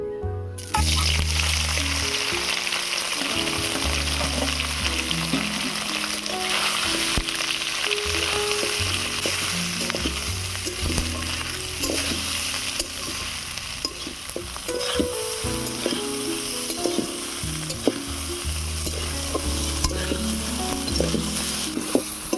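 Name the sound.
soybean chunks frying in oil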